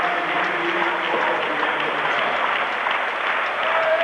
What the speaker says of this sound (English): the clapping is being led by the German coaching team